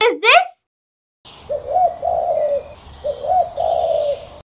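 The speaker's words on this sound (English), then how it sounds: "It's a dove." A dove calls close by: a brief sharp chirp, a pause, then two soft throaty cooing phrases, clear and alone with no talking.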